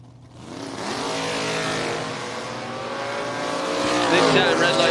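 A 67 Camaro and another drag car launch at a drag strip, engines roaring up loud and sustained, building in intensity toward the end, with an announcer talking over the noise.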